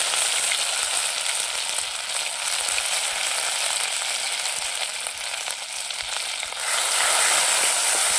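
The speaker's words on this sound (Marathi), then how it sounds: "तेल चांगलं गरम झालंय. मोहरी, जिरं, लसूण आणि मिरची ठेचलेली," Crushed garlic, green chili, mustard seeds and cumin crackle and sizzle steadily in hot oil for a Maharashtrian tempering, a dense, close, continuous frying hiss that swells slightly louder near the end, with no one talking.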